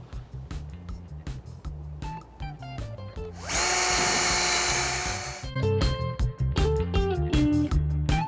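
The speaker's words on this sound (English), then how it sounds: "So we're going to go ahead, make a drill, put the screw in." A power drill bores holes for screws in a boat's rub rail during installation, with a few seconds of steady high whine amid shorter tool clicks and rattling handling noises nearby.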